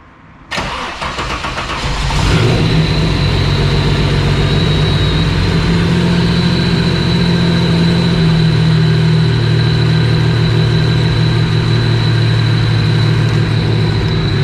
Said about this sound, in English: She idles high when it's cold